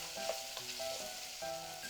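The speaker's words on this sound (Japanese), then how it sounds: "弱火で3分炒めていきます" Vegetables for chikuzenni stir-fry over low heat, a soft, quiet sizzle with faint scraping of a utensil, a few brief tonal clinks, and no voices.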